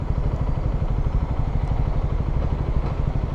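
A Peugeot PM-01 125 motorcycle engine runs close and loud with an even, rapid pulsing idle that holds steady for a few seconds with no talking.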